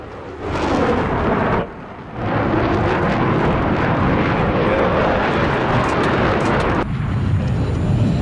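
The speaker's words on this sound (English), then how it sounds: "Guys, you got a jet on you." A jet aircraft in the Battlefield 3 video game roars loudly overhead, a dense, sustained engine rush that drops briefly and swells again across several seconds.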